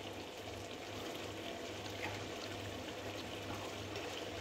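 Three cups of water are poured into a cooking pot for wheat hamin, a continuous close, fairly loud pouring splash with a low hum beneath and no voices.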